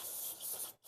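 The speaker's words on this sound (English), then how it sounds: "let's go ahead and spray some carburetor cleaner on these surfaces" Carburetor cleaner sprays from an aerosol can onto surfaces during a fuel filter replacement on a Mercedes W163, a steady close hiss lasting under a second before cutting off briefly.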